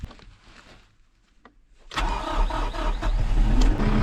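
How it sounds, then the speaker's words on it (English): Kubota diesel tractor engine, frozen and under repair, cranks and catches after a quiet lull, then settles into a loud, rough, steady idle as it warms up. "It started, but we're now warming up."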